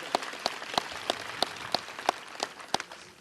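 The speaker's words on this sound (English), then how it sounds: "Let's give her another round of applause." A few scattered claps from a small morning-show audience after a singer's performance, roughly ten sharp separate hand claps in an uneven rhythm, fairly close, with no talking.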